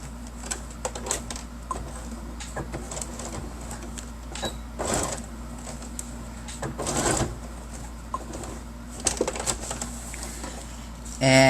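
A sewing machine stitching across the top of a fabric pocket for a bookmark and pen holder, with short bursts of whirring and rapid needle clatter separated by pauses and light handling noises.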